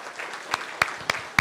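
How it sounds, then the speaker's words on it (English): Applause at a National Heroes Day ceremony in the Sister Islands honouring two Caymanian seafarers, heard as a thin wash of clapping with a few sharper claps standing out over about a second and a half. "Big applause there"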